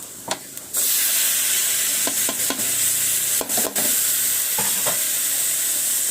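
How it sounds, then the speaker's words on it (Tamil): Chili and chili powder sauté in a hot pan, a steady loud sizzle broken by several sharp scraping stirs of a spatula against the metal. "பார்த்தீங்கன்னா நம்ம வதக்கிட்டுருக்கோம்"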